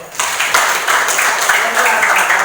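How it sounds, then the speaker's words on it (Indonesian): Students in a history classroom clap for a classmate's presentation, a short burst of brisk rhythmic clapping close by with a teacher's voice talking over it. "Ya, tepuk tangan untuk."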